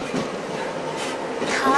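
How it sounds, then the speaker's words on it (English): Steady rumble and rattle inside a train carriage on an evening ride home in Wales, UK. A continuous, moderately loud hum of wheels and carriage fills the background while someone speaks over it. "On the train home."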